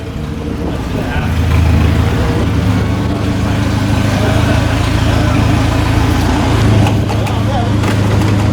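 A Nissan 240SX with a freshly rebuilt KA24E engine idles steadily and fairly loud, a continuous low rumble up close with people talking over it.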